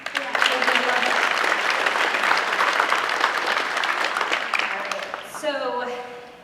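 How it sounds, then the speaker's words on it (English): An audience at an athletic awards ceremony breaks into sustained applause, a full, steady roar of clapping that fades near the end as a voice begins speaking. "So I'd really like to give her a round of applause."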